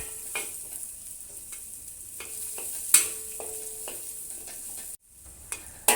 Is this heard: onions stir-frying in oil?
yes